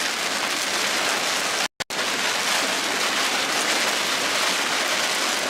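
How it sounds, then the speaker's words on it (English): Hail drums steadily on a storm-chasing vehicle during a severe storm in northeast Nebraska, a dense, loud, continuous patter with one brief dropout and no talking. "I get a little hail here as we punch out of this."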